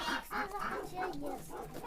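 Domestic geese in a Polesian village yard give soft, repeated honking clucks in quick irregular succession, faint and somewhat distant over a low outdoor background.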